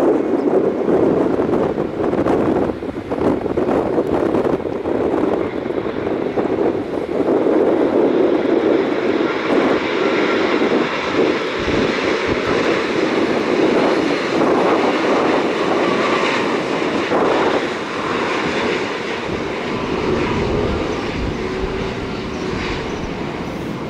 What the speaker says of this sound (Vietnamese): Chiếc máy bay đang bước vào hạ cánh.